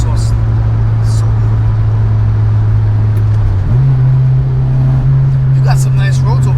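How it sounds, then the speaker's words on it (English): An Acura RSX's engine and exhaust hum loudly and steadily from inside the cabin, its pitch stepping up slightly midway as it pulls along. "I love the exhaust."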